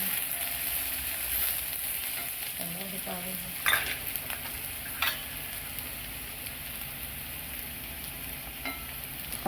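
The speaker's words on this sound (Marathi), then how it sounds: "नंतर कांदा टाकून असं परतून घेऊ." Onion sizzles in hot oil with cumin and curry leaves as sambar tempering, a steady bright frying hiss with a few stirring clanks and scrapes, close and continuous.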